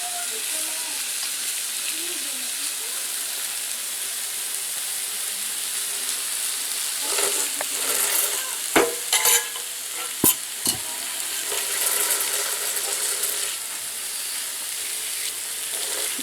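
Meat slices sizzle steadily on a small mini plancha, a continuous close frying hiss with a few brief clicks and scrapes partway through.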